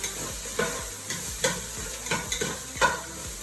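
Minced garlic sautéing in a soup pot for chickpea tomato minestrone, a soft steady sizzle broken by a spoon scraping the pot about every second.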